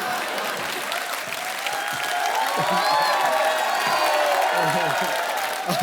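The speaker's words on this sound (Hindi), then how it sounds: "जोरदार तालियां" A television comedy show's studio audience applauds and cheers loudly, a dense sustained roar of clapping with whoops and excited voices mixed in, swelling slightly toward the middle.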